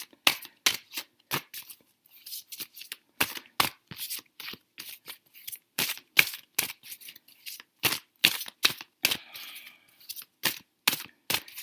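Rapid, crisp snapping and riffling of tarot cards being shuffled, close by, in quick irregular bursts with brief pauses between.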